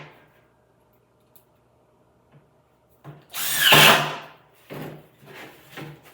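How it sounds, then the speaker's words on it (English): A power drill drives screws through a metal plate into plywood: after quiet handling clicks, a loud whirring burst of drilling rises, followed by several shorter drill pulses. "I'm going to go ahead and screw it into the plywood to hold it in place."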